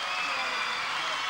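A concert audience applauds with dense, even clapping and crowd noise that stays loud and continuous throughout.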